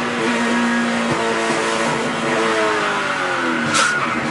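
Stock race cars roar loudly past at Talladega, a continuous close engine drone with shifting pitch as several cars pass and one whines by near the end.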